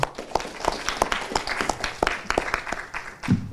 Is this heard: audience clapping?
yes